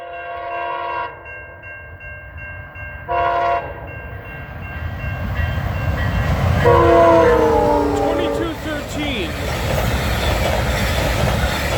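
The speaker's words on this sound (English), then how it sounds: "Listen to that horns." A VIA Rail passenger train (VIA 40) sounds two short horn blasts, then a longer sustained horn as it rumbles loudly past close by at East Townline Road in Newtonville, Ontario, wheels clattering underneath.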